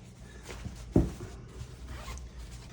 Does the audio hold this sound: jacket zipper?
yes